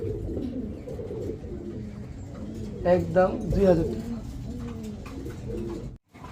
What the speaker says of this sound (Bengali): এক পেয়ার ড্যানিশ কবুতর, ব্ল্যাক ড্যানিশ